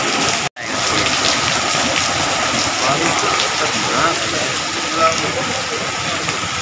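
Heavy rain falling on a street in Delhi makes a dense, continuous close wash of hiss and patter, with people talking underneath.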